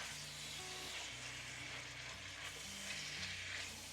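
Onions sizzle steadily in avocado oil in a pan on a stove while they are stirred, giving a constant close frying hiss with a faint low hum beneath it and no voices.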